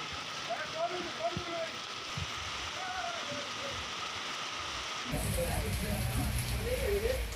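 Steady, dense hiss of heavy rain pouring down in Hyderabad, growing louder and fuller partway through, with faint voices murmuring underneath.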